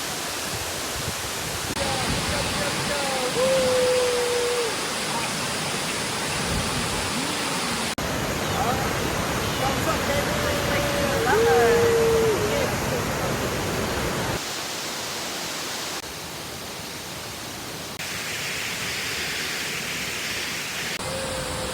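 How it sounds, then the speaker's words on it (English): A steady, heavy roar of a nearby waterfall fills the scene, broad and constant, with a voice speaking briefly beneath the rush. "Now we are super close to the waterfall."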